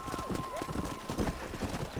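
Rhythmic clip-clop of horse hooves trotting close by in the video game Red Dead Redemption, steady and brisk, over a layered background with a faint tonal hum.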